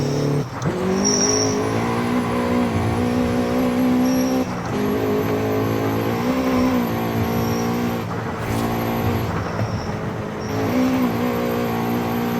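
A Honda Civic EP3 Type R engine holding high revs, then dropping a gear with quick rev changes and a steady loud in-car drone, no speech.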